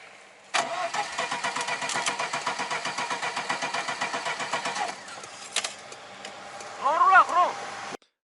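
A car stalled on a winter road is cranked to restart, with a steady rhythmic whir of the starter for about four seconds before it cuts off. A second brief crank follows, and a voice is heard near the end.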